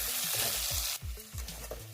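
Peas and carrots frying in a pan for vegetable pasta, a soft continuous sizzle with a few quick stirring strokes, faint and steady with no voices.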